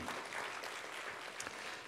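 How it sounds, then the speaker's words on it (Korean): Audience at a church sermon clapping in encouragement, a dense, steady wash of applause from many hands, moderately distant and fairly quiet throughout. "옆에 분이 격려와 응원의 박수 한번."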